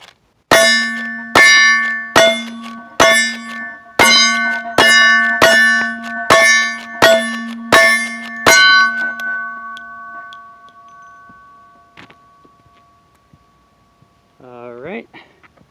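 Rifle shots strike a steel target in a rapid string of about nine sharp ringing clangs, each leaving a sustained metallic hum that fades slowly after the last hit.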